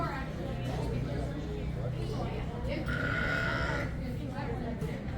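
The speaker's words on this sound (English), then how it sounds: "I'm sure everybody can hear the goats over there." Goats bleat repeatedly over a steady wash of outdoor chatter and crowd noise at Rafiki's Planet Watch, with one drawn-out, wavering bleat standing out in the middle.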